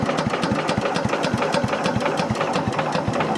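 Small engine of an Agri-Fab Mow-N-Vac leaf vacuum running steadily with a rapid, even chugging pulse, fairly close and moderately loud, with no talking.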